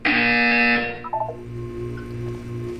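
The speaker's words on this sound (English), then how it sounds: "You will hear a buzzer." A loud electronic buzzer from the video game Portal 2 blares for under a second as a steady harsh tone, then cuts off, leaving faint electronic beeps and a low hum.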